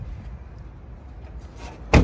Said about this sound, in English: Driver's side door now.